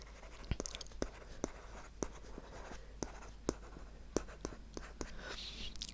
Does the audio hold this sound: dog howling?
no